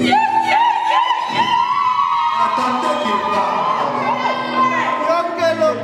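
Wedding guests in a church cheer, whoop and shout together, a loud sustained crowd roar with high excited cries and voices overlapping throughout.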